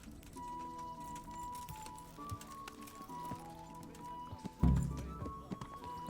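In Kingdom Come: Deliverance, horses ride off in a group, their hooves clip-clopping in an uneven rhythm alongside the game's music. A heavy thump comes near the end, and a voice speaks faintly underneath.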